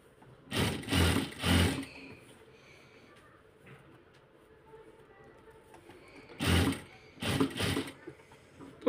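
Sewing machine running in two short bursts while stitching piping onto a kameez neckline, each burst lasting about a second with a quiet pause between them.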